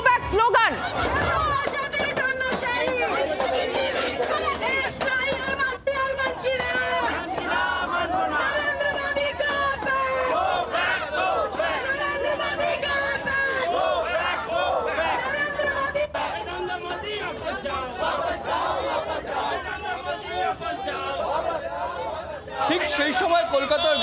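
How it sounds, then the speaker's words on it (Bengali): Protest crowd chanting the 'Modi go back' slogan at Park Circus seven-point crossing in Kolkata, a dense rhythmic roar of many voices that runs continuously and loud throughout. "Modi go back slogan."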